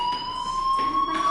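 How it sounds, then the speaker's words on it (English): Fire alarm in a video game blaring as a steady, piercing electronic tone with a few pulsing swells over its brief length, no voices. "Hey, do you hear that fire alarm?"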